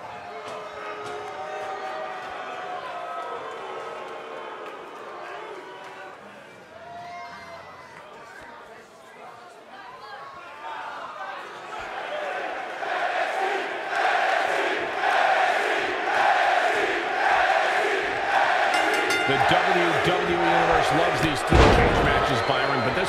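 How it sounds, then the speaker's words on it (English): A large WWE NXT wrestling arena crowd roars and cheers during a Fight Pit match, building from a murmur into loud sustained noise with thuds and slams, voices talking underneath. "Would you listen to this crowd?"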